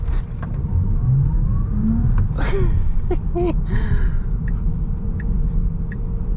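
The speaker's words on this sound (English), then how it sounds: "now to finish out this video, we always got to get an acceleration in, get some fun driving in" A 2026 Tesla Model 3 Performance accelerates hard with a steady low motor and road rumble inside the cabin, while an occupant gasps and lets out short excited breaths midway.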